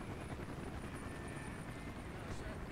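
Dense helicopter rotor roar in Call of Duty Black Ops, set in the Vietnam War, a steady loud broadband drone that holds evenly throughout with no pauses.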